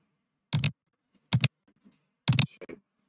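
Three sharp, isolated computer mouse clicks sound close and dry, spaced roughly a second apart against near silence, with faint small clicks after the last one.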